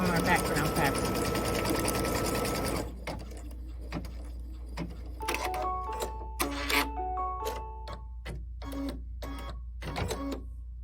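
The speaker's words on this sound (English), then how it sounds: "we're going to stitch our placement line for our bucket, or for our pocket actually" A computerized embroidery sewing machine stitches a placement line on fabric, first running in a fast, steady mechanical whir, then slowing into a stepping, whirring rhythm with distinct pauses, all close and clear.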